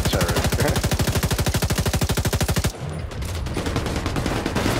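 An enemy turret machine gun fires in The Division 2, a loud, rapid, evenly spaced burst of shots for nearly three seconds, then breaking into a denser mix of gunfire and game noise.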